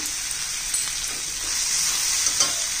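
Chopped green chillies and ginger paste fry in hot oil in a pan, giving a brief, continuous close sizzle with faint stirring and no talk.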